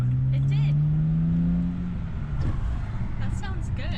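A 2009 BMW 328 e90 with a muffler-deleted axle-back exhaust drones loudly at first, then drops to a rougher, lower rumble with a few crackles, voices talking faintly alongside.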